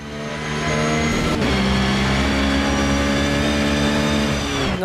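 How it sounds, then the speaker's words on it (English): A race car in Automobilista 2 drives a wet Le Mans endurance circuit, its engine a loud, steady, high-pitched drone with layered harmonics running throughout, close and alone with no talk. "You can hear the car just going through the puddles."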